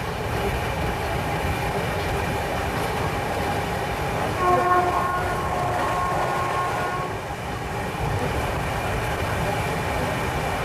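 A Tirupati–Bhubaneswar weekly superfast express rolling at about 120 km/h, a loud, steady rumble and rush of wheels and wind heard from on board, with a faint horn tone partway through.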